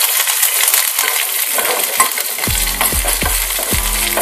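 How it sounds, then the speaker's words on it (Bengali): Curry leaves hit hot oil for a South Indian sambar dal tempering and give a loud, crackling sizzle, then several sharp metallic clinks of a spoon against the pan, with no talking. "দিয়ে দিলাম কারি পাতা, কারণ কারি পাতা দিলে তেলের মধ্যে পড়লে ভীষণই ফুটবে"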